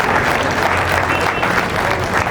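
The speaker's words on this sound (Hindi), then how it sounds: "ताली बजाओ तो सारे बजाओ, दो चार मत बजाओ" Audience clapping at a lecture by Dr. S.P. Bharill on whether we too can become Mahavir: dense, steady applause from a crowd, sustained and fairly loud throughout.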